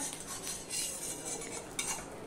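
A metal spatula scrapes and clinks against an iron wok as poha cooked with very little oil over a low flame is flipped, giving quiet, scattered scraping with a couple of sharper knocks.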